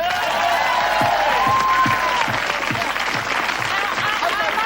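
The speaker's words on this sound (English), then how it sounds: "Ladies and gentlemen, a round of applause for Lucy" Studio audience applause on a television comedy panel show, steady dense clapping throughout at full volume, with a few voices rising over it.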